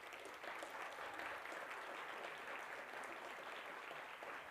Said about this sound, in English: Let's give another big applause to their wonderful performance today.